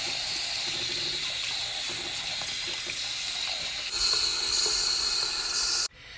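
A houseplant infested with aphids is rinsed under a sink tap, producing a steady, close hiss of running water that swells louder partway through and then cuts off sharply as the tap shuts.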